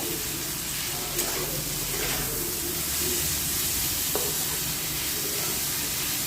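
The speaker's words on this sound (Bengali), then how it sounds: "আমি সবজিটা ভালো করে ভেজে নিচ্ছি" Vegetables frying in a pan with salt added, a continuous sizzle with occasional stirring scrapes and clinks against the pan, close and fairly quiet, with no voices.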